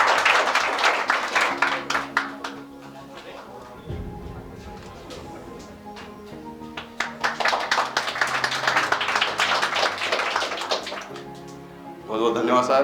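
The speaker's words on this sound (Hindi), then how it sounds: "तालियों से उनका भी स्वागत किया जाए।" Audience applause at a coaching institute's annual function, a steady wash of clapping over background music, swelling again toward the end.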